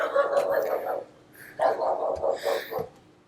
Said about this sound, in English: Also, this home does come with a barking dog.